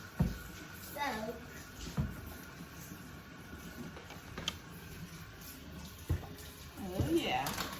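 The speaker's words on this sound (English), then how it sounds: "We're gonna wash our hands." A kitchen tap runs as hands are washed before chopping on cutting boards, a soft steady stream under intermittent nearby talk with a few clatters.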